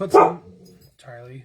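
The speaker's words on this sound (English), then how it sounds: "You don't need to bark right now." A pet dog barks indoors, with a sharp close burst of barking at the start, and a person talks over and after it.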